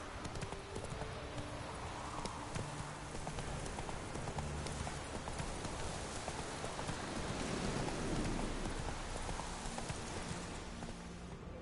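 Horse hooves clip-clop at a steady gallop through rain in The Witcher 3, the even patter of rainfall underneath, with a brief whinny near the end.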